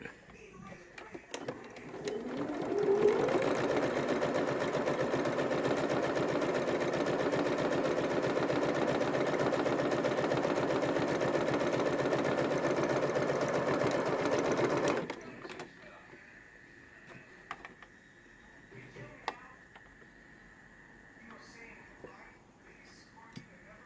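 A sewing machine top-stitches a card slot pocket in one continuous run of about twelve seconds, a close, steady mechanical hum, then stops and leaves quiet handling noises.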